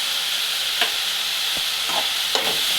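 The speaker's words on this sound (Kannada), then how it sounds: "ಈರುಳ್ಳಿ ಮೆಣಸಿನ್ಕಾಯಿ ಒಂದು ಎರಡು ನಿಮಿಷ ಚೆನ್ನಾಗಿ ಬಾಡಿಸ್ಕೊಂಡಿದ್ದೀನಿ" Onions and green chillies sauté in a pan for an egg palya, a continuous bright, hissing sizzle with a few soft spatula taps over nearly three seconds.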